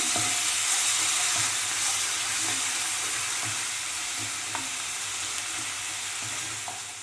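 Four spoons of sour yogurt sizzle in a kadai of Bengali pea masala (koraishuti kosha). A steady, close frying hiss runs throughout with occasional soft stirring clicks, and no one speaks.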